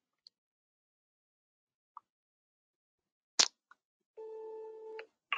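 A softphone places an inbound test call through an Epygi PBX: a few short, isolated electronic blips, then a sharp click and a steady electronic tone lasting under a second before it cuts off.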